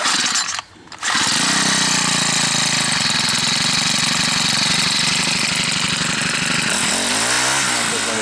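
A small engine roars to life after its carburetor rebuild, running loud and steady with a rapid, rough, knocking rhythm that persists to the end, following a brief hush just before it fires.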